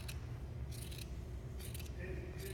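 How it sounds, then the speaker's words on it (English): Scissors snip through paper along a drawn line in a few short, crisp bursts, fairly quiet against a steady low background hum. "Then we're going to get our scissors, and we're just going to cut right down the line."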